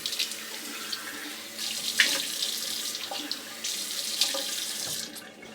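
A bathroom sink tap runs steadily while water is cupped to wet the face before shaving, a close, continuous rush broken by splashy surges and soft slaps of water against skin.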